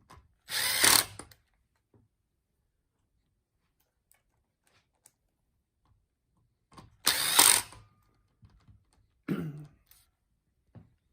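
Power tool driving the four supporting screws into an X7/X8 electric scooter during rear wheel replacement, with two loud whirring bursts about a second long and a shorter third burst, separated by near silence.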